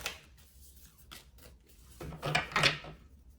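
Tarot cards being shuffled by hand during a reading: soft riffling and sliding bursts, quiet and close, with a louder flurry of card rubbing near the end and no speech.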